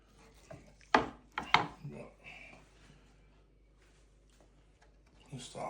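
Knife cutting beef brisket into burger-sized pieces on a board, two or three quiet chopping thuds and scrapes close by, with a person talking around them.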